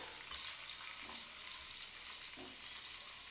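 Pumpkin pieces frying in a pan for a Bengali home lunch, giving a steady, close sizzle and crackle with faint stirring scrapes, no voices.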